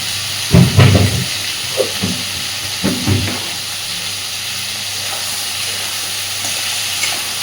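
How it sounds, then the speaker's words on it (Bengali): Potatoes and eggplant fry in a pan for a fish curry. A steady oil sizzle and hiss runs throughout, with a few scraping stirs near the start and again around the middle. No one speaks. "আবারও খুব সুন্দর করে আলু আর বেগুনটাকে ভেজে নেব।"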